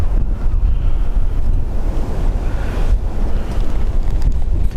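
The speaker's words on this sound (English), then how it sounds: "it's still fairly windy" Strong wind gusting against an outdoor microphone at an airport, a loud continuous low rumble and buffeting that surges and eases without pause, with no voices.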